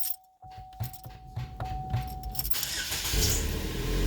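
Key turned in the ignition of a 2018 Chrysler Pacifica, with a brief jingle and chime tone, then the engine cranking and catching into a steady idle that builds and holds near the end.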